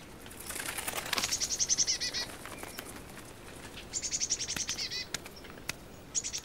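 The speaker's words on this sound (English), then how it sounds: "At nightfall, the chirruping ends and the songbirds return to their roosts." Songbirds at a winter feeding table in the wilderness give bursts of high rapid chirruping, with fluttering wingbeats and small taps between calls, fairly close and moderately loud against a quiet background.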